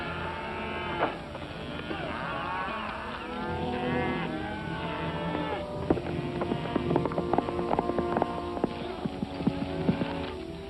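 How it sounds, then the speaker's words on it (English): Herd of cattle lowing repeatedly while being unloaded in an old Western ranch setting, with hoof clatter building over continuous loud mooing. "Those cattle they're unloading are scraps."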